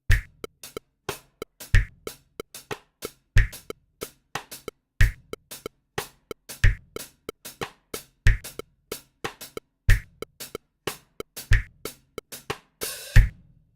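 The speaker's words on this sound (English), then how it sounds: "we go ahead and play what I call the skeletal Hemiola pattern without the embellishment" Sparse drum kit hits in a repeating, uneven hemiola grouping in 7/8, sharp strikes alternating with softer taps, played alone at a steady moderate tempo.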